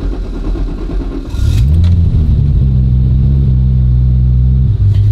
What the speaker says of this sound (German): Jetzt machen wir ihn an und gucken uns die Leerlauf.